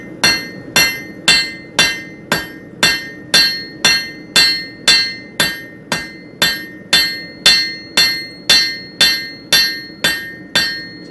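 A blacksmith's hammer strikes tong stock over the sharp edge of an anvil, about twenty loud, ringing blows at a steady, even pace, each with a bright metallic ring that decays before the next, with no talking.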